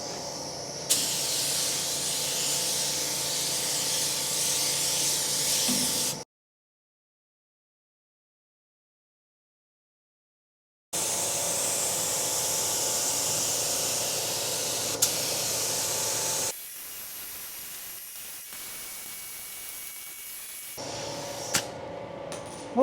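Epoxy paint is sprayed onto a car body from a spray gun in long, loud, steady hissing passes, broken by a silent gap and a quieter stretch before spraying resumes.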